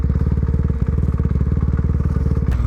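A motorcycle engine thumps close by in a fast, even pulsing rhythm, loud and alone with no talking for the whole short stretch.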